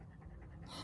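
A newly adopted shelter dog pants rapidly in quick, breathy huffs, close by and fairly quiet, lasting under a second with no voices over it.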